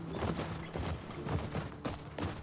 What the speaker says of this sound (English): My horse named Shimmer?